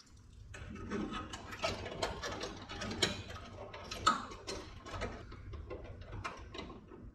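A ratchet snugs up a new bolt on a car hood hinge during hood alignment, giving a run of close, fast mechanical clicks and metallic ticks with a few sharper knocks, and no voices.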